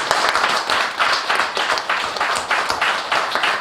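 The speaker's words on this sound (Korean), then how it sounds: "우리 청년을 위해서 진실로 하나님 앞에 감사와 영광의 박수를 치시겠습니다" A church congregation applauding during a Sunday worship service, a steady, dense wash of many hands clapping together, fairly loud and sustained throughout without pause.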